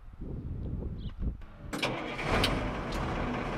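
A large, heavy homemade amphibious vehicle, the Big A, weighing about 20,000 pounds, cranks and fires up. Its engine catches suddenly and settles into a loud, steady rumble close by, with no speech.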